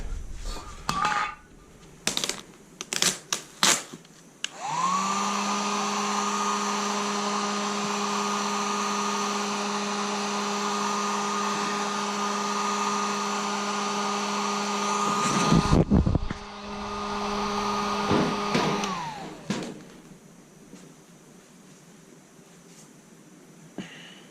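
A heat gun blows steadily for about fifteen seconds as it warms motocross graphics on a Honda CR125R to smooth out wrinkles, a loud even whine with a hum beneath, ending with a falling spin-down amid handling clatter.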